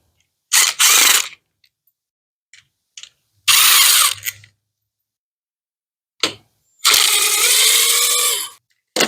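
Power tool spinning out the last few clutch cover screws on a Suzuki Hayabusa, heard as three loud, separate whirring bursts of a second or two each, with short clicks and quiet gaps between them.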